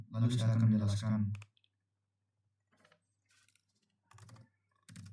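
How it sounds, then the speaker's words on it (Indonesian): Someone types on a computer keyboard during an object-oriented programming lesson; a voice speaks briefly first, then a few soft, scattered key clicks follow in short bursts. "sini saya akan mengetik terlebih dahulu."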